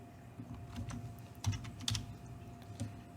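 Typing on a computer keyboard while coding a personal portfolio page, with a few soft, irregular keystroke clicks over quiet room noise and no talking.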